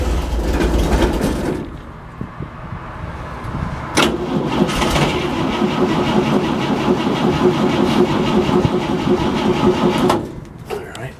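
A hot-wired engine with no wiring harness cranks and catches, then runs steadily with a rough, loud idle for several seconds before cutting out near the end.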